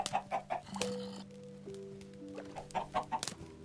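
Minecraft chickens cluck in short, bright bursts, several calls in quick rhythmic clusters separated by brief pauses and accompanied by faint tonal game sounds.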